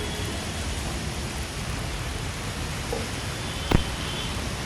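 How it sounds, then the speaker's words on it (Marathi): Heavy rain pours steadily at King's Circle, Mumbai, in a dense, even hiss, with one brief sharp knock near the end. "सकाळपासूनच पाऊस जोरात सुरू आहे"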